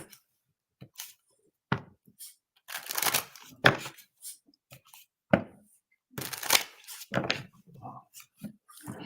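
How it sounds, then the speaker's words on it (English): Playing cards are shuffled in several quick riffling bursts separated by short pauses, close and fairly quiet. "All right, shuffling for Salone."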